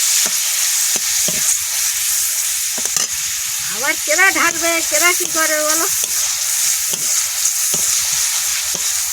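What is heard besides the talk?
tomatoes frying in hot oil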